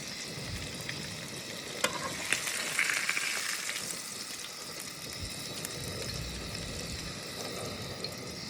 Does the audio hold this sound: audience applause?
no